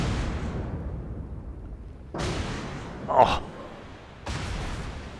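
Heavy naval cannon salvos in the World of Warships game, deep rumbling booms that swell and fade, with a sharper impact crack in between and a man exclaiming over the gameplay.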